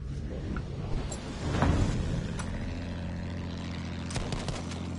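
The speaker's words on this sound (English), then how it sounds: "Alright, I got me a plane." Propeller plane droning through a Battlefield 1 battlefield, a steady mid-low engine hum with a brief louder swell partway through and scattered sharp combat sounds layered on top.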